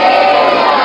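Church congregation in Mumbai loudly shouting hallelujah together, a brief, dense and very loud crowd roar of voices in unison, held evenly for under a second.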